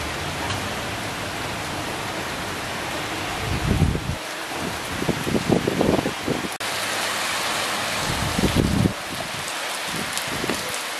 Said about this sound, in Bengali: তখন থেকে একবার বৃষ্টি হচ্ছে